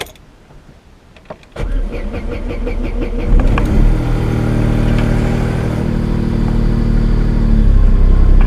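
An Opel Corsa B car engine cranks after a couple of faint clicks, catches with a loud burst and settles into a steady, close idle that runs on alone to the end.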